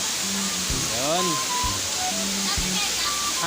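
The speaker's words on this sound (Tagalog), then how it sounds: "Ayan po yung baba ng ilog sa Barangay de Ocampo." Steady broadband rush of flowing river water in Barangay de Ocampo fills the scene, with people talking intermittently over it.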